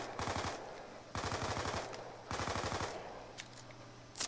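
An MP5 submachine gun fires in Call of Duty Zombies on the Bus Depot map, three loud sustained bursts of rapid automatic fire about a second each, separated by short pauses, with quieter game noise trailing after.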